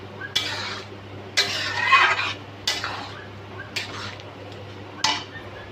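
Chhole masala with chopped coriander is stirred in a pan, a metal spoon scraping and clinking against the pan in five separate bursts about a second apart, close up over a low hum.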